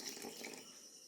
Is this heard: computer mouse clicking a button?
no